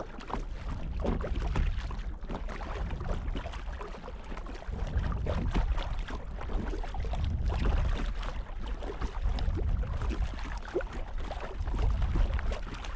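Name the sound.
paddling an ultralight kayak on a lake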